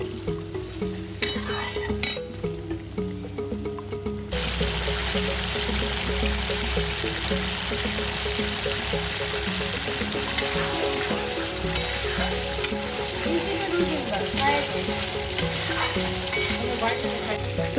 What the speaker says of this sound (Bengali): আমি একটুখানি জল দিয়ে আবার কষতে থাকবো ভালোভাবে মশলাটা।